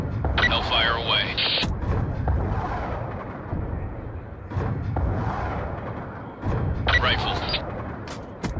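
A Hellfire missile strike from a Reaper drone in Black Ops 2 lands as heavy booming blasts and rumbling impacts, mixed with radio-style voice chatter.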